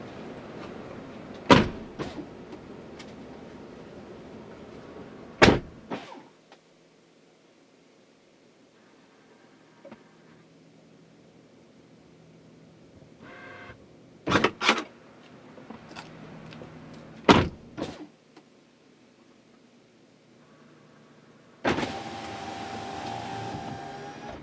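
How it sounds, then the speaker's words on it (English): A Tesla Model S being shut and locked: several sharp door or trunk thuds spread through a quiet stretch, with faint mechanical whirs between them and a steady hum rising near the end. "close the car and give you a sense of what happens when I do that"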